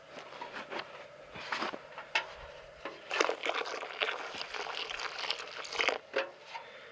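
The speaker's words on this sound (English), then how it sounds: "I can add just a little bit more water to it" Warm water poured and splashing over deer antlers and skull in a pot while preparing a European mount, a series of uneven close splashes and trickles with no talk.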